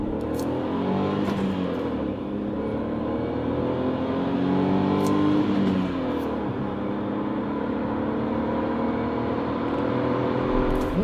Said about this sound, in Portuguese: para vos mostrar a estonteante aceleração que este carro tem